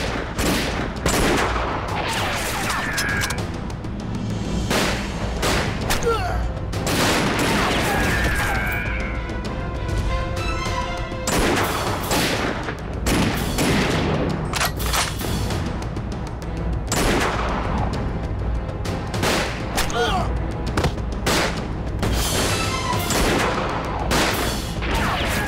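Heavy, sustained gunfire crackles through an ambush battle in an anti-Japanese war action drama, with loud overlapping volleys, sharp cracks and crashes nearly continuous, and faint shouted voices buried in the din.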